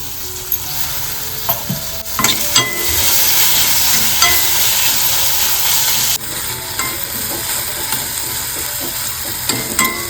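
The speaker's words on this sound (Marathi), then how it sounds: "इकडे ना कांदा मस्त परतवून घेतलेला आहे टोमॅटो घालून घेते" Onion and tomato frying together for a tempering in a home kitchen, a loud, continuous close sizzle with scraping spatula stirs and clicks against the pan, briefly dipping midway, no speech.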